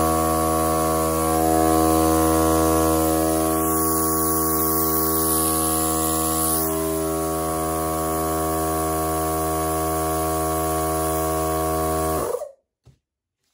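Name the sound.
Milwaukee M18 cordless inflator running like a compressor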